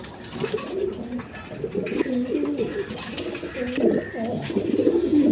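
Big pigeons coo at a pigeon farm, with repeated close, throaty rolling coos overlapping one another against a light background murmur.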